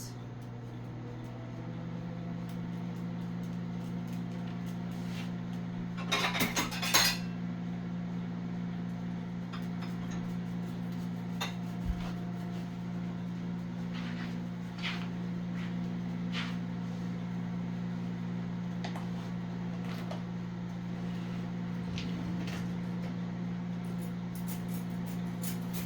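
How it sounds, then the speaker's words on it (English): A fast home microwave oven reheats rice with a steady low electrical hum and fan drone throughout, plus a brief rattle and a few faint clicks partway through. "because my microwave is pretty quick. Go for a minute in there if I don't want to dry out"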